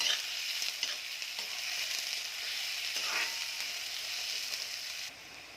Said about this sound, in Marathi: आता मी कांदा टाकत आहे कांदा आता मी परतून घेत आहे